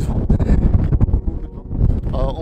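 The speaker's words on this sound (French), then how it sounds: "il y a du vent, il y a beaucoup de vent" Strong gusts batter the microphone in a park near Wellington, a constant deep rumbling buffet that swells and dips throughout the short stretch.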